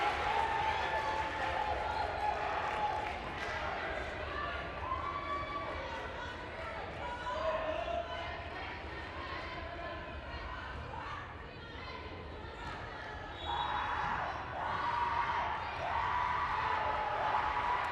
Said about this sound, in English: An enthusiastic crowd here tonight.